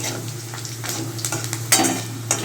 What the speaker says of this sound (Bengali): পাঁচফোড়নটা দিয়ে দিলাম।